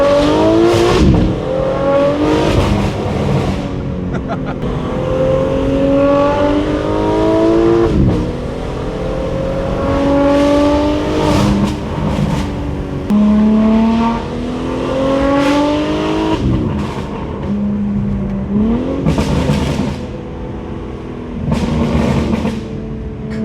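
A BMW G8x M3/M4 fitted with a Valvetronic Designs exhaust revs and accelerates hard, its loud raspy engine note climbing through gears with brief dips at each shift, sustained and close.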